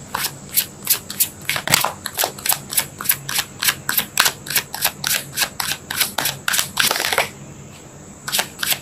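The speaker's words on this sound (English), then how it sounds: "I just can't shuffle today" Tarot cards being shuffled by hand, a rapid series of crisp riffling snaps and flicks close up, coming in quick bursts for several seconds before a short pause and a final few flicks.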